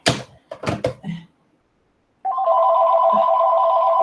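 A brief exchange of speech is followed by silence, then a telephone starts ringing with a steady, bright electronic tone that continues loudly to the end.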